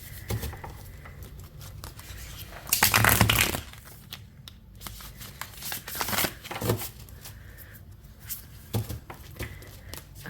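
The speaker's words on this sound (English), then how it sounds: "I love the way this deck shuffles." Tarot cards being riffled and shuffled in bursts, one loud crisp shuffle followed by softer patters and rustles, close up with no talking.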